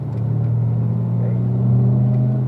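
Car accelerating at full power on a racetrack, a steady loud engine drone with a low rumbling hum that holds constant and swells slightly near the end.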